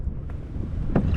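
Steady low wind rumble buffets the microphone on open water while fishing from a boat on a New York trip, a continuous blustery roar with a brief gust-like swell near the end.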